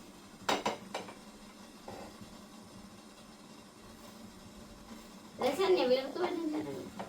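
A metal lid is lifted from a pot of freshly steamed idiyappam, with a couple of sharp clanks early on and a longer rattling, scraping handling later, close and moderately loud, while a voice talks.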